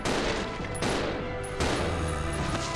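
Weapon fire in the survival-horror video game Resident Evil 0 booms out in three heavy, loud back-to-back bursts, each with a long rumbling tail, with no talking over it.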